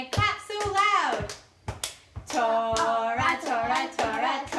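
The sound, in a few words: children clapping hands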